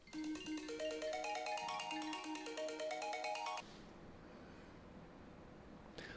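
A phone ringtone plays a rising, repeating electronic melody, loud and close, for several seconds, then stops abruptly, leaving faint room noise and a brief click near the end.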